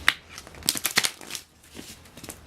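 Brisk riffle of tarot cards being shuffled, a quick burst of crisp papery flutters and taps close by, then softer scattered rustles trailing off.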